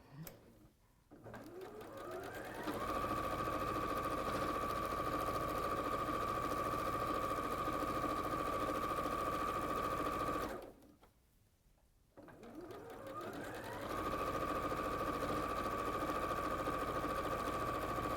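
Sewing machine stitching a long pinned seam, a steady close whir that runs for several seconds, stops briefly, then starts up again.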